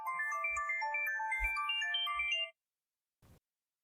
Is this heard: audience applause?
no